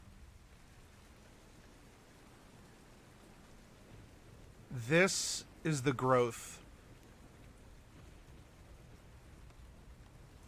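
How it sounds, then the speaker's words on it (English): Steady summer rain falling, a soft continuous hiss of drops heard throughout, with someone speaking briefly over it in the middle. "These are the rains of summer."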